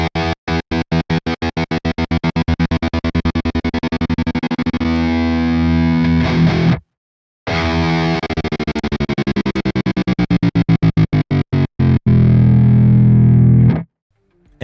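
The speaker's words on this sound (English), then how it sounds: "a stutter control that responds to the rocker pedal, perfect for those glitch effects and chops" Electric guitar run through a PolyChrome DSP Graphene pedal, its rocker-controlled stutter effect chopping the loud distorted chords into rapid on-off bursts, with a near-silent gap near the middle and a short held stretch before it cuts out.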